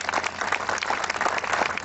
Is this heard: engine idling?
no